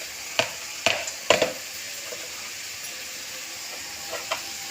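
Sliced bitter gourd, seeds included, fries in a pan under a constant soft sizzle, with a few sharp scraping stirs from a spatula nearby.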